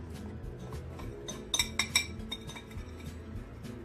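Milk and starch stirred with a spoon in a cooking pot for chocolate pudding, giving a run of light clinks and scrapes against the metal, with a louder cluster of sharp taps in the middle, close up and with no talking.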